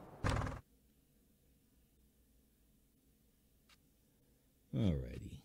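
Horses in the game Farming Simulator 19 let out two loud whinnies, one near the start and one at the end, separated by a quiet stretch of low background hum.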